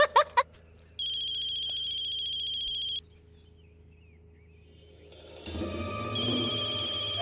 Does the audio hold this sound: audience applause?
no